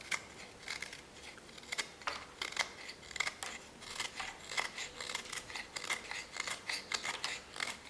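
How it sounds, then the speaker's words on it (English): A Kizer Mini Domin knife with a 15-degree-per-side diamond-sharpened edge carves into hard wood. It makes close, dry scraping and shaving strokes in a steady run of short bursts, with no talking. "this wood is definitely a lot harder to cut."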